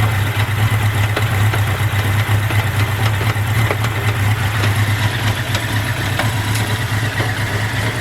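A 1983 Honda Nighthawk 650cc motorcycle engine runs steadily in fourth gear, a loud continuous drone with a strong low hum, unbroken for the whole stretch and without talk.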